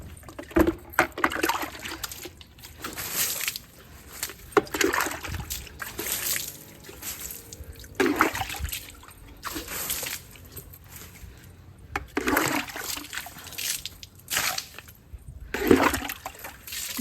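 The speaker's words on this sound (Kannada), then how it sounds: "ಈ ಗಿಡಗಳಿಗೆಲ್ಲ ಧೂಳು ಕುತ್ಕೊಬಿಟ್ಟಿರುತ್ತೆ, ಅದಕ್ಕೆ ಸ್ವಲ್ಪ ನೀರು ಚೆಲ್ತಾ ಇದ್ದ" Water is sprinkled onto dusty garden plants in repeated splashing bursts every couple of seconds, fairly close and moderately soft, with a trickle between throws.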